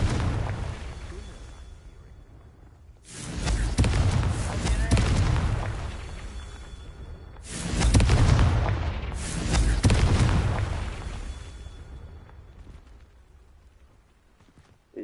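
Confringo fire spells explode in the video game Hogwarts Legacy, a series of loud, booming blasts with rumbling tails, mixed with other game sounds.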